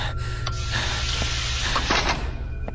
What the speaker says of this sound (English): Stop breathing like that.